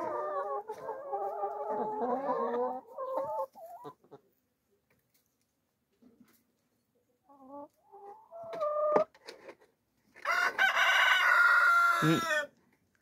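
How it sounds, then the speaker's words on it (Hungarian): Backyard roosters crowing in turn near a flock of chickens, with repeated loud, harmonically rich cock-a-doodle-doo calls, one rooster's voice hoarse and rasping, separated by brief quiet gaps and soft clucks. "Most a másik kukorékolt, most arra jött rá."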